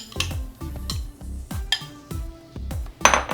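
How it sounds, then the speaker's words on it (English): Butter, cream cheese and sugar are mixed in a bowl for coconut macaroons, making repeated close clinks and clanks of utensil on bowl in an uneven rhythm, about eight distinct knocks, with no talking. "we're going to combine our butter, cream cheese, and sugar, and we're gonna mix it all together until it's light and fluffy"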